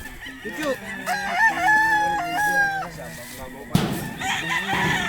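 A labuyo jungle fowl rooster crows in a long, clear call near a cockfighting setting, followed by rustling and handling noise.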